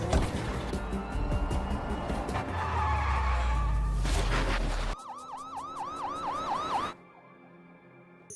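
In a film chase scene, a car roars away with a heavy engine rumble and tyre noise for about five seconds, then a police siren wails in rising and falling sweeps before cutting out into quiet.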